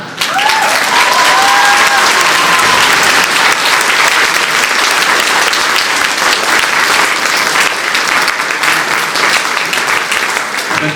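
Audience applause for Dawid, the scriptwriter of a parish nativity play (jasełka) staged by a church schola choir, a loud, dense, sustained clapping from a full room that carries on steadily without a pause.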